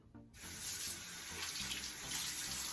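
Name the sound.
water running to wet a sponge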